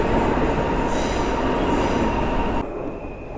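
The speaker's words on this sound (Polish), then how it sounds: "Wjeżdża skład zespolony PKP Intercity" A PKP Intercity multiple-unit passenger train pulls into a station, its loud, steady rolling rumble and rail noise filling the scene before easing slightly near the end.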